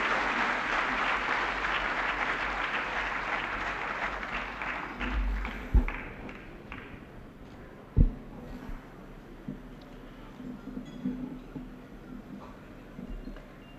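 An audience applauds as Mohan Bhagwat is welcomed to the stage at a formal gathering. The sustained clapping fades over several seconds, leaving scattered claps and room noise, with a few sharp knocks.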